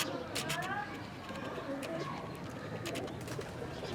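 Breeder pigeons coo softly in a loft setup, their low murmuring calls sitting faintly beneath someone talking throughout.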